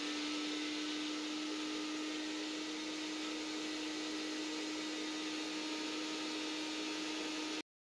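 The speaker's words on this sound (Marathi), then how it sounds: "मिरची, लसूण, कोथिंबीर आणि त्यासोबत धने, जिरं आणि बडीशेप हे टाकून छान मिक्सरला फिरवून घ्यायचं आहे" A mixer grinder whirs steadily, grinding green chilies, garlic, coriander leaves, coriander seeds, cumin and fennel seeds into a coarse paste; a constant, loud motor drone with a steady hum runs throughout, then cuts off abruptly at the end.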